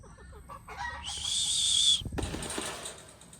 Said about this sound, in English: That was an exciting chirp, I think.